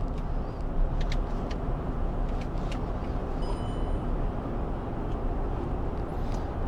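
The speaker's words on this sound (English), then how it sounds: "we'll give some gas on the highway so we can see how it handles on the passing and everything" Broadband road and tyre noise from inside a 2024 Chevy Traverse Z71 cruising on the highway, a steady moderate rush with faint clicks, no talk.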